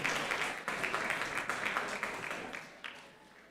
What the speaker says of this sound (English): Let's give them a big round of applause as they exit